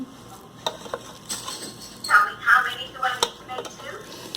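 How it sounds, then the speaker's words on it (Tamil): A metal ladle stirs and scrapes through biryani in a pressure cooker, giving scattered clinks and scrapes against the pot, moderately loud and close, with faint background noise and no talk. "கரண்ட் வச்சு இதை வந்து ஃபுல்லாக ஒரு மிக்ஸ் கொடுத்துடலாம்"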